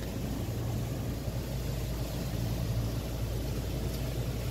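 An Integrity 340 trawler-style motor boat cruises offshore in gentle one-metre swells, heading south under autopilot, its engine a faint, steady low hum blended with broad wash and wind noise, continuous and unbroken.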